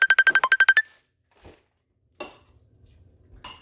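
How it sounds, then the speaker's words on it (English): A phone ringtone for an incoming call plays a rapid burst of bright electronic beeps, then stops, followed by a few faint clicks and soft handling noises in a kitchen. "I'm getting a phone call."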